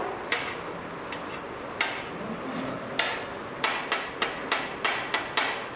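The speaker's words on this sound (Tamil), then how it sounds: "நல்ல பொடி எந்த அளவுக்கு உங்களுக்கு பொடியாக கட் பண்ண முடியுமோ கட் பண்ணிக்கோங்க" Knife chopping peeled ice apple (nungu palm fruit) finely for kulfi, sharp close taps on a cutting board, sparse at first then a quick, steady run of repeated strikes.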